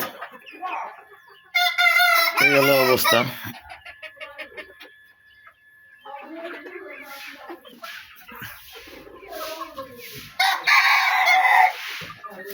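Deshi chickens on a small farm: a rooster lets out one loud, close crow, followed by scattered clucking and a second burst of hen calls, with a brief spoken voice in between.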